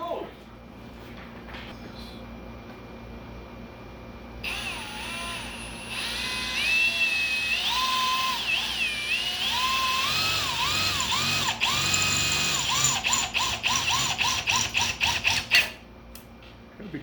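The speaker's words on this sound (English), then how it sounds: "let's drill some holes" A power drill bores holes in a firewall plate, its motor whining up and down in pitch through several bursts, then stuttering in short rapid pulses before stopping.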